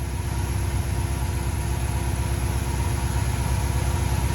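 Car engine idling steadily after an exhaust header gasket and bolt replacement and new spark plugs, a close, even, smooth running hum with a low rhythmic pulse throughout, no talking.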